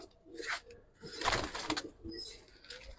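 Silver Giribaz pigeons coo in a few soft, close bursts with rustling between them, at moderate volume with no talk over them.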